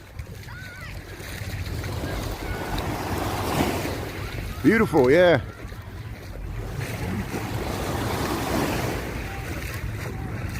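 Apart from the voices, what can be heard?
ocean waves on Lake Michigan beach, wind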